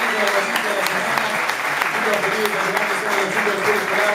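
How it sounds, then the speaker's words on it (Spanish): Applause on a Spanish-language morning radio show, a steady patter of clapping running beneath ongoing talk and musical tones throughout. "aplauso para el hombre lo aplaudo"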